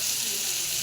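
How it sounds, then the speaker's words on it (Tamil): Onion and tomato sautéing in a pan with chilli, coriander, turmeric, cumin and curry masala powders, a short steady sizzling hiss with no voice over it. "இதை நல்லா வணக்கிக்கலாங்க"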